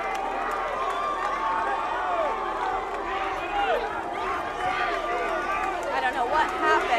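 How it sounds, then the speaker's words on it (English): A crowd cheers and chants "ATL" at a gathering with police officers present, a continuous roar of many voices with rising shouts and whoops, fairly close and steady throughout. "They're chanting ATL."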